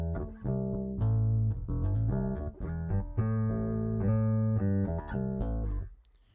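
Bass guitar from a TBBK-1 DIY kit played on its stock neck pickup, warm and rounded in tone, a steady melodic line of sustained and plucked notes, loud and close, ending with a fade.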